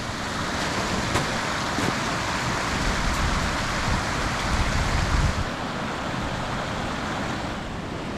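Water pours and streams outdoors during an Arctic blizzard at Christmas 2022, a steady loud wash of rushing noise mixed with gusting wind that holds evenly throughout, with a brief swell toward the middle.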